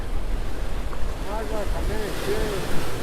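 Waves wash along the Jaffa seashore under steady wind, a soft continuous surf with faint gusts and a few distant tonal calls in the background, no speech.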